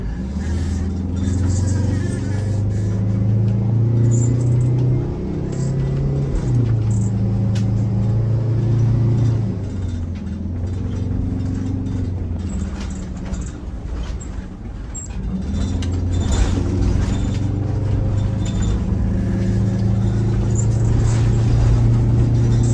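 An old engine that sat unused for 20 years drones loudly and steadily as it powers a vehicle up a hill, a continuous low rumble that shifts pitch slightly with load and gear changes.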